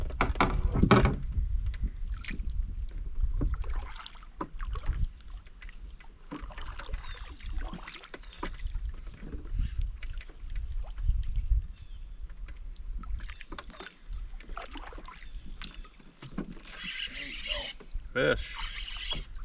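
Paddling sounds from a kayak on a small lake during a crappie fishing outing, with water splashes, hull knocks and gear handling close by as people talk throughout.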